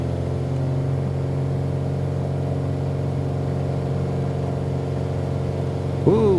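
Steady droning engine of a Piper Arrow III PA-28R-201 in a flight simulator, holding a constant hum with rising power, close and loud, with a short swooping tone near the end.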